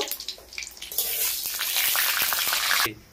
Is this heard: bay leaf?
yes